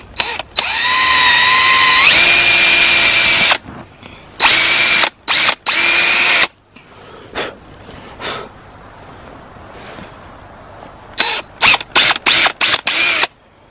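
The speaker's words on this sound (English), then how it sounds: "You don't want to be drilling into decayed wood." Loud bursts of a power drill whining up in pitch as it bores into a maple tree for tapping, several on-off runs separated by quiet outdoor pauses, with short rapid triggers near the end.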